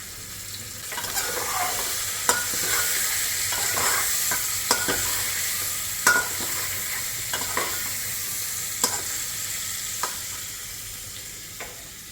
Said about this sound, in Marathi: मिरच्या घालूया, स्लाइस केलेला कांदाही आता आपण घालतोय त्यामध्ये।